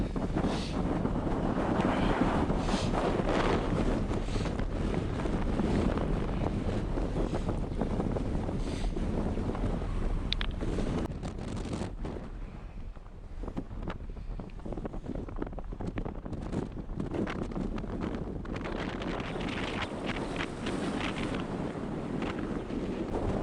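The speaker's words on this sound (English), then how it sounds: "it's hard to keep your balance up here, it's so windy" Strong storm-force wind on a mountain summit blasts steadily across the microphone, a dense, roaring rush that barely lets up, easing slightly midway before surging again.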